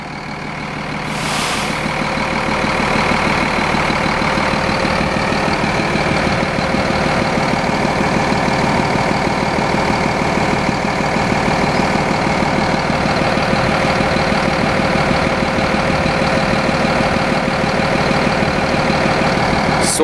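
A Dennis Trident President double-deck bus engine runs steadily in a coach depot, a loud sustained diesel drone with a constant mechanical rumble throughout.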